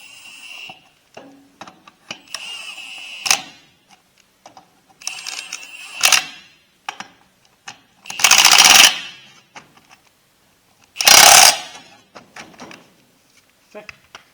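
Lug nuts are tightened on a Ford 8N tractor wheel: sharp clicks and short ratcheting scrapes, then two louder sustained bursts of tool noise, all close and intermittent with quiet gaps between.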